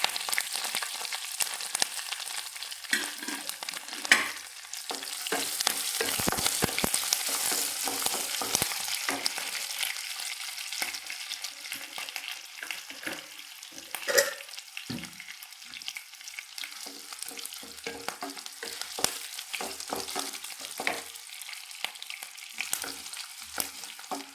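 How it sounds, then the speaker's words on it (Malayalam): Ginger, garlic, curry leaves and green chilies fry with mustard seeds in hot oil, giving a steady close sizzle with scattered pops and occasional stirring scrapes, no voices. "കടുക് പൊട്ടുന്നു ഇനി ഇഞ്ചി വെളുത്തുള്ളി കറിവേപ്പില പച്ചമുളക് കൊടുക്കാം"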